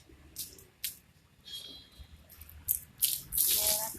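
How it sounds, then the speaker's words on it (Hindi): Water is poured and splashes in short bursts, with louder, sustained spraying near the end; close and fairly quiet, with no talking. "कितना पानी डालोगी?"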